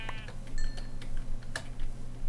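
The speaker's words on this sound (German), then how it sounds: "Da ist noch ein Schaf." Sheep in Minecraft bleat in short, wavering calls, a few separate bleats spread over a couple of seconds above a low steady hum and light clicking.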